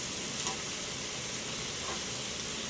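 Thin steaks for steak au poivre frying in a hot pan, giving a steady, close sizzle that holds an even level throughout with no pauses or talk.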